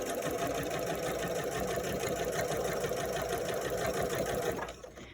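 A domestic sewing machine runs a straight top stitch along the edge of a fabric mask at a 1.4 stitch length, a steady close whirring hum with a rapid needle rhythm that holds for about four and a half seconds, then stops.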